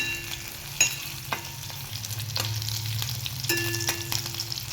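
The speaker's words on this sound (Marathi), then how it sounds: "इथं आपल्या मिर मिरची आणि लसूण बघा इथं थोडासा लाल होईपर्यंत घालून घेत आपण" Green chilies and garlic fry in a pan for a drumstick-leaf vegetable dish, a steady close sizzle broken by a few sharp stirring clicks and scrapes.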